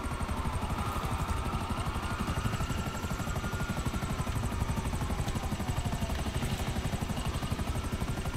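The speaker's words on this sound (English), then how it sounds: "I'm gonna say, why use the helicopter?" A helicopter in the video game GTA 5, its rotor chopping in a fast steady rhythm beneath a continuous engine whine, loud and close throughout.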